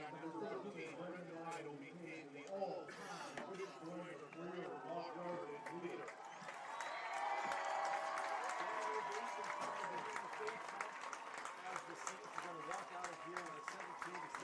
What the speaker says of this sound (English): And Lytle getting love from the crowd